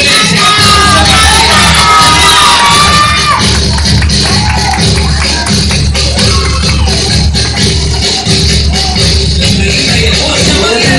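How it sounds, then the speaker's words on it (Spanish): A large festive crowd at a quinceañera marinera norteña dance performance with horses cheers, yells and whoops continuously and loudly, with dense shouting throughout and no pause. "¡Aplausos para ellos, por favor!"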